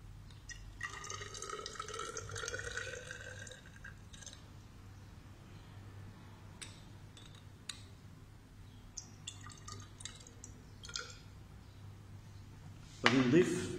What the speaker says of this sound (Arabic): غادي نضيف الماء لجعل التركيز